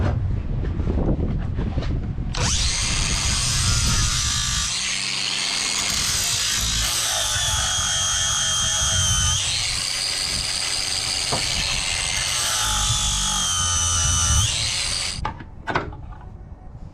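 An angle grinder with a flap disc sanding down a K20 engine bay in an EF sedan, a loud sustained whine with grinding roughness that shifts pitch as pressure changes, then winds down near the end.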